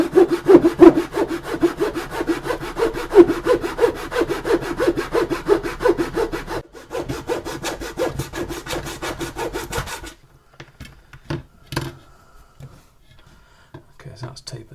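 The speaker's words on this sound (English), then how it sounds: "I'm just going to cut this excess off back with a razor saw" A razor saw cuts excess wood from a part of an HMS Victory model ship's gallery wing transom, giving a steady run of rapid back-and-forth rasping strokes that stops partway, followed by a few scattered light taps and handling sounds.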